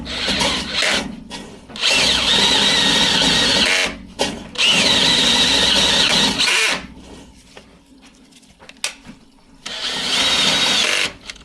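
A drain cleaning machine grinds and mills inside a clogged pipe: loud sustained whirring bursts of roughly two seconds each, cutting out and restarting, with quieter scraping and rattling in the gaps.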